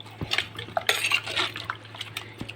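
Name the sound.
stirring ripe mango curry in a clay pot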